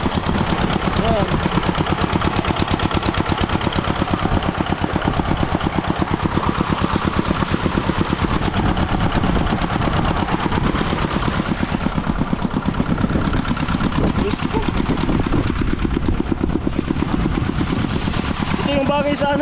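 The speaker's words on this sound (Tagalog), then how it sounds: "Ito yung makina niya." A small machine engine runs steadily with a loud, rapid chugging throb that holds constant throughout.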